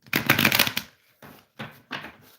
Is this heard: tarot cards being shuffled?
yes